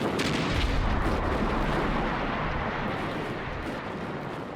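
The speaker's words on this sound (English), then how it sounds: "Allied guns blasted at 0 hour." Allied artillery guns fire during a WW2 invasion landing on the Italian coastline, a dense, continuous roar of booming blasts and rumbling detonations that stays loud before slowly easing off.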